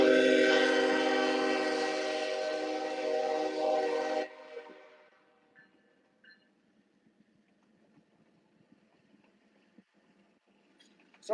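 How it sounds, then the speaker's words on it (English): A loud, sustained train horn blasts for several seconds, then cuts off, leaving faint rumbling and scattered clicks as the train moves away. "This is my second train of the day"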